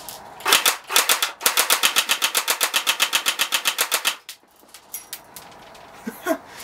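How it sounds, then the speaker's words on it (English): A Well P90 D-90F airsoft BB gun fires a rapid automatic burst of evenly spaced sharp cracks lasting a few seconds, then stops, leaving faint scattered clicks and handling noise. "That's not a bad rate of fire from a little thing like this."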